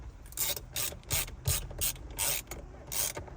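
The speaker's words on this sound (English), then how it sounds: "one guy used a fucking thing that I'm using, a wrench" Rapid ratcheting clicks from a wrench tightening the new steering wheel on a Cadillac CTS-V V2, in repeated short bursts of close, crisp clicking.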